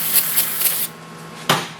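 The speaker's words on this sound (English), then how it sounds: "take some brake cleaner. I just use this stuff right here, and I spray it on a rag." Brake cleaner is sprayed from an aerosol can onto a rag during rear pad and rotor work on an Audi A4 Quattro, giving three quick close hissing bursts, then a brief quiet and a single louder spray.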